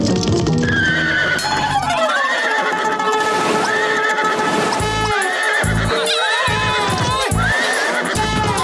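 A cartoon horse neighs and whinnies loudly, with clip-clop hoofbeats of galloping running through, set in a busy animated scene with music and effects.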